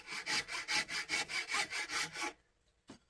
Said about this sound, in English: We'll start off with this fine rasp here that has a safe edge on it